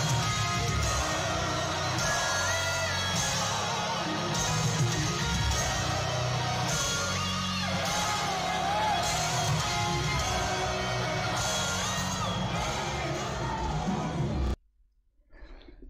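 A dense, loud concert crowd at the Munich Zenith roars and sings along without a break, the sound of a packed hall. It cuts off abruptly near the end.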